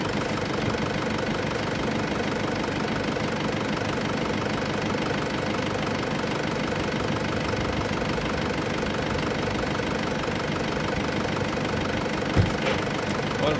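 An Isuzu 4JX1 engine idles steadily with a fitted 70A-to-90A alternator upgrade, a constant mid-pitched rumble with faint knocking, close and unchanging, with no talk.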